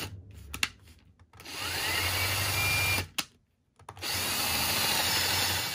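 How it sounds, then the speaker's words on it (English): A power drill whines steadily as it bores into wood for a roosting box, running in two long bursts separated by a brief silent pause. "Sometimes to get a better start on this side, you can reverse the drill."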